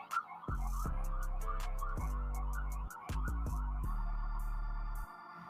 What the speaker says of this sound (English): I don't get how you hear those sirens on like high floor